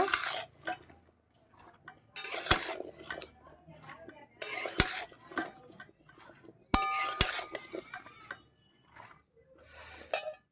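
A spoon scrapes and clinks against a metal pot while a Bengali-style vegetable curry mixture is stirred, in several loud bursts separated by quieter gaps, close by with no talking.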